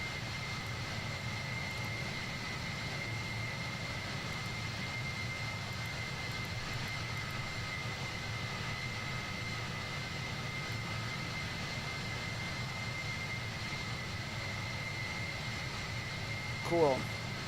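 Boeing 767 jet engines drone in flight in Microsoft Flight Simulator 2020, a steady, moderate cabin-level roar with a brief click near the end and no talking.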